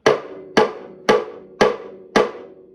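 Five evenly spaced drum rim clicks with the hand scooped into the middle of the head, each a sharp woody knock with a full, bodied ring that quickly decays, played close and loud.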